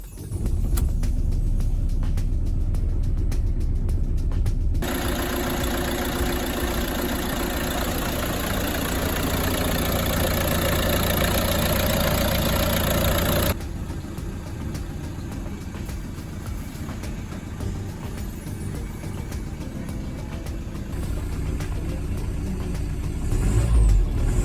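A Ford Transit Mk7 van engine idling, a steady close mechanical hum that holds unbroken for about twenty-five seconds, with a shift in tone partway through and no voices.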